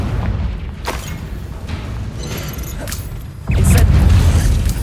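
Fiery Confringo spell blasts in Hogwarts Legacy, a sustained rumbling roar with sharp crackling bursts that swells into a louder, heavier boom near the end.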